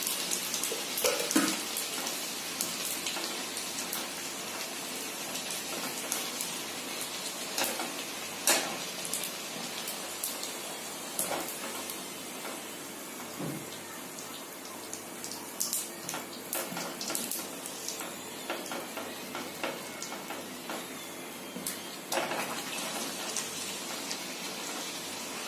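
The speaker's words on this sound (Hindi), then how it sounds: "और इसे अलट पलट कर क्रिस्पी होने तक हम इसे फ्राई करेंगे।" Raj kachori puffs frying in hot oil, turned over until crisp, with a steady close crackle and scattered sharper pops throughout.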